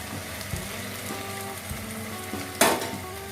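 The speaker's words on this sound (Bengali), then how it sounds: "দিয়ে ভালো করে একটা মিশিয়ে নেবো" Soya chunks frying in a pan are stirred through a steady sizzle, with scattered utensil clinks against the pan and one louder scrape near the end.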